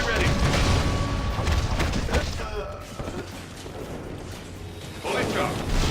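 Artillery fire in the Marvel Ultimate Alliance 2 video game booms heavily through a busy battle mix, with several thuds and blasts up front that trail off, then a renewed burst near the end, under game character voices.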